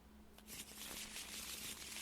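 Virtual card deck shuffled in Tabletop Simulator during a Disney Villainous card game: a steady, papery riffling rustle starts after a brief quiet lead-in and runs at moderate level to the end, with no talk.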